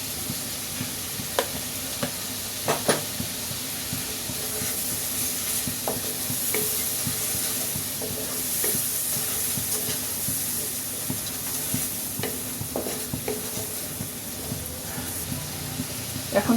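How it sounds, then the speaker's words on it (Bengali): Spices and salt stir-fried in a pan while cooking an egg dish with eggplant and tomato, a steady sizzle with scattered scraping stir clicks throughout, close and alone without talk. "এখন একটু লবণ দিচ্ছি, মশলাটা কষাই।"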